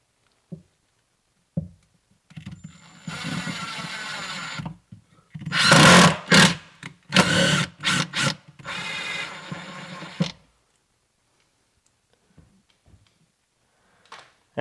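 A power drill drives a screw into a countersunk hole in a garage, with several whirring bursts of varying length separated by short pauses, close and fairly loud.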